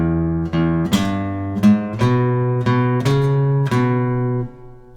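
Guitar playing a walking bass line blues in E with alternate picking, a steady run of plucked low notes, each struck firmly and ringing into the next, loud and alone.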